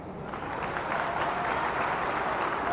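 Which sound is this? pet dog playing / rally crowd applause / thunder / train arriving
rally crowd applause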